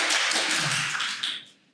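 Audience clapping for a presenter at a product updates event, a short burst of applause that holds steady then tapers off and fades out within two seconds.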